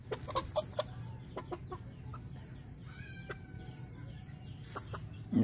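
Chickens cluck in short repeated bursts at moderate distance over a steady low background hum, with a few higher calls scattered through.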